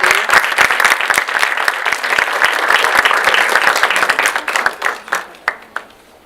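An audience at a cultural event applauds with dense, loud clapping that holds for several seconds, then thins into a few scattered individual claps before fading out.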